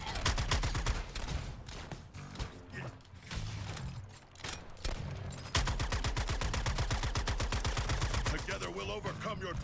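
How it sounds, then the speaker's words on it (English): Gunfire in the video game Suicide Squad: Kill the Justice League: loud, rapid automatic bursts rattle out in steady streams, broken by brief pauses, with mechanical clatter and a voice now and then. "Shoot him up fast, Shark."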